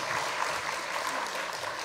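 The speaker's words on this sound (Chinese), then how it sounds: "那我们是不是先给他们台上的六位这些老师们一个掌声" Sustained applause from a seated audience at a Chinese-language literature forum, greeting six panelists on stage: a dense, even wash of clapping, steady throughout and without any voices.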